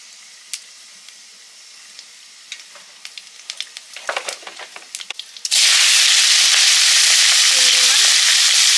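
Mustard oil with black cumin (kalo jeera) erupting into a loud, steady sizzle after a few scattered clinks and taps, the frying hiss then holding strong and continuous to the end.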